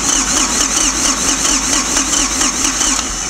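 A Ford 1710 tractor's diesel engine cranks and catches, then runs in a loud, steady, close rumble with a rhythmic pulsing chug.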